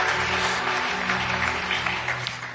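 Steady applause from a church congregation acclaiming the word of God, a dense wash of clapping with faint music or voices underneath.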